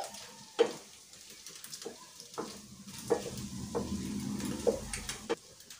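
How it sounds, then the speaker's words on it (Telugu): Green chillies and curry leaves stir and sizzle in a frying pan for a noodle dish, a soft, steady frying hiss broken by a few light taps and scrapes of a spoon against the pan. "గ్రీన్ చిల్లీ వేసుకున్నాక కరివేపాకు కూడా వేసుకున్నాక కలుపుకోవాలి"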